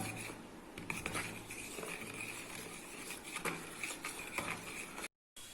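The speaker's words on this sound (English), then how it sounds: "So I have added a little bit more powder and mixing it." Homemade ink powder mixture being stirred in a small container, a faint, quick scraping and tapping patter repeating steadily and close up, with no voices.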